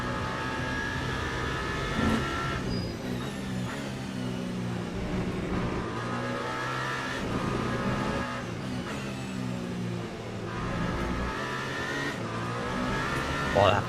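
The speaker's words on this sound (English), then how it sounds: "that Porsche acceleration is eager" Porsche race car in Le Mans Ultimate, engine revving up through gears in repeated rising sweeps and brief shift dips, close and steady, with someone talking over it throughout.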